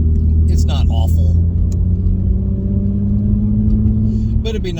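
Steady low exhaust drone from a 2016 Ford Mustang V6 (S550) with a muffler delete, heard inside the cabin while cruising at about 2,300–2,500 RPM. The hum is loud and continuous, with a person speaking over it.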